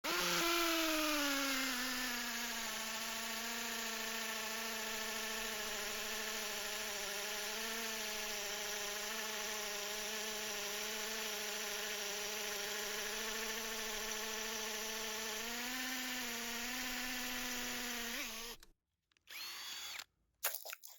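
A Parkside Performance 12V hammer drill at speed 2 bores with an 8mm bit, its close, loud motor whine and hammering buzz sustained for a long run with slight pitch wavers, then cutting out, followed by a few short bursts.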